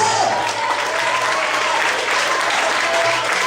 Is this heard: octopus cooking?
no